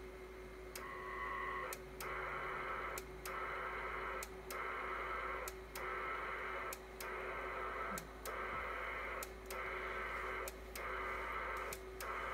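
An SCS DR-7800 HF radio modem connecting, giving a steady loud digital data tone broken by regular short gaps into a rhythmic burst pattern over a constant hum, with no talking.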